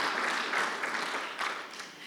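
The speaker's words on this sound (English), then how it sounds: "Maybe we'll clap that." Conference attendees at zkSummit give a short burst of applause for the event sponsors, moderately loud clapping that fades slightly by the end.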